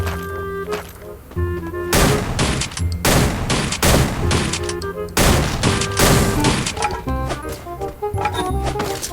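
Gunfire in a ranked online shooter match, with dense bursts of loud close shots in rapid volleys and single blasts over a layered game soundtrack and effects, no talking.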